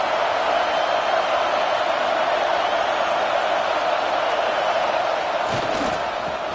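A packed stadium crowd at a USC college football game roars in a dense, steady wash of noise throughout, with a few louder shouts near the end.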